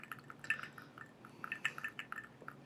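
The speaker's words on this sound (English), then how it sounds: "We got to do the finger stir to cool it down." Bourbon being finger-stirred over an ice sphere in a glass, faint light clinks and liquid swishes in irregular bursts, close but quiet.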